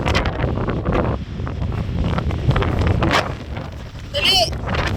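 Wind gusts buffet the microphone during an outdoor walk, a loud, continuous roar and rumble filling the whole stretch, with faint background sounds near the end.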